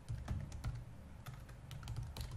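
Someone typing code on a computer keyboard, with steady, rapid clicking keystrokes in a quiet room and no voices.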